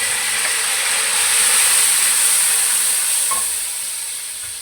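Five boiled, peeled tomatoes hit a hot pan of browned beef with a loud, continuous hiss that swells and then slowly eases off, close and unbroken by talk.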